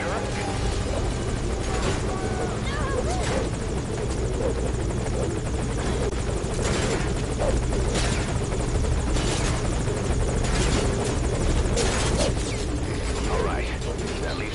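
A military helicopter in the stealth video game Metal Gear Solid Ground Zeroes thumps loudly and continuously with a steady rotor chop and engine whine as it comes in to land, with voices talking over it.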